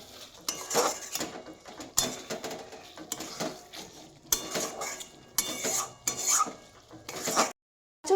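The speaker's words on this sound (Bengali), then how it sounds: "তো গরম মশলাটাকে পরিমাণ মতো দিয়ে দিচ্ছি। যদিও সেম ভাবে নাড়িয়ে নিচ্ছি।" A metal spatula scrapes and clatters against a pan while egg curry with garam masala is stirred, irregular close rasping strokes and knocks with short pauses between them.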